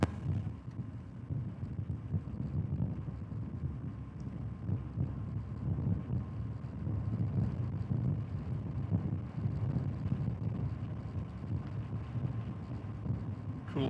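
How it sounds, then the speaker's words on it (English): A north wind blows steadily outdoors, buffeting the microphone with a constant low rumbling gusty roar. "I've already got a north wind blowing here."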